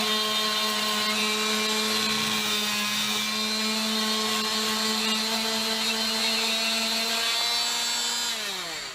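A Dremel rotary tool cuts through a deer antler clamped in a vise, giving a steady, loud, high-pitched whine that holds for several seconds, then drops in pitch as the tool spins down at the end.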